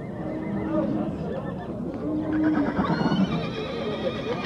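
A horse at the Nookat livestock market gives a loud, close whinny, with the murmur of people talking around it.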